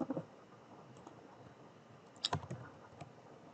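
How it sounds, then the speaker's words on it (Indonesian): Typing on a computer keyboard at a Node.js interactive prompt: a few sparse, faint key clicks, then a quick brighter cluster of keystrokes near the middle, heard alone without talk. "kita ketikkan"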